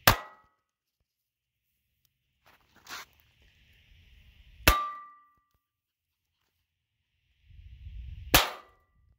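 Gunshots fired from a Colt or Beretta pistol into an aluminum computer holder, three sharp metallic cracks spaced several seconds apart with brief rumbling handling noise between them, no talking.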